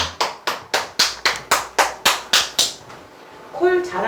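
Roughly ten sharp, evenly spaced claps in a steady rhythm at a sales-training lecture, then the clapping stops and a short tonal sound closes out the moment.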